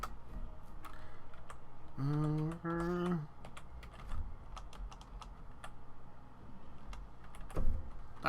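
Rapid clicking of keys on a computer keyboard in irregular bursts, close by, with a brief humming tone partway through.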